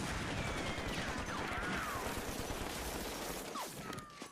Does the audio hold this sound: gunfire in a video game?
yes